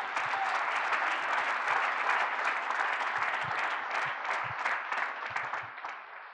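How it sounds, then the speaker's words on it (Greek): A congregation breaks into loud, sustained applause, many hands clapping densely and evenly for several seconds before easing slightly at the end, with no speech over it. "Δώστε ένα δυνατό χειροκρότημα."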